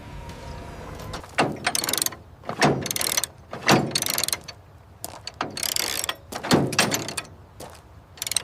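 A tow truck winch hauls a 1942 Ford pickup up on chains in bursts, with clanking, ratcheting mechanical strokes about every second, loud and close, separated by quieter pauses.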